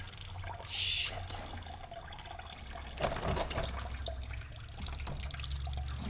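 Fluid drains from the engine of a Subaru BRZ / Scion FR-S / Toyota 86 being prepared for engine removal: a soft, steady trickle and drip of liquid under low hum, with a brief splashy surge midway.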